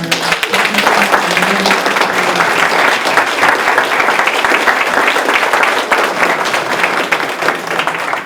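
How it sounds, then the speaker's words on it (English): An audience at a racial justice essay and creative arts contest award ceremony applauds, dense, steady clapping from many hands filling the room without a break for several seconds. "Please give another round of applause for all of our"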